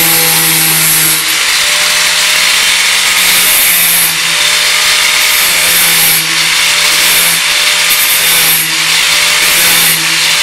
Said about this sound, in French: avec une scie sauteuse, t'as tant soit peu le truc de faire les gondoles à l'eau